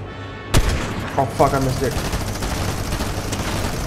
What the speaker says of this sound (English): who's firing a machine gun?